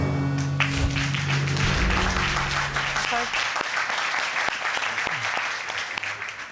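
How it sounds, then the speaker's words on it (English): A studio audience at a courtroom television show bursts into applause that starts loud and dense, then thins and tapers off over several seconds, with a voice faintly heard early on. "I saw you clap."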